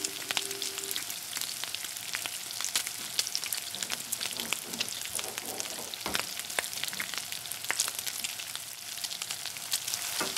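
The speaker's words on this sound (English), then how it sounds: "They flatten out the rolled dough and start to bake it on a hot frying pan." Steady crackling sizzle of rolled pastry dough frying on a hot pan in a nomad village, continuous and fairly close, with occasional sharper pops and no voices.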